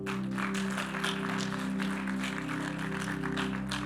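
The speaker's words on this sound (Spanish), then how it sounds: "Esto merecía un aplauso." A church congregation claps in steady, continuous applause, moderately loud and even, over a constant low hum.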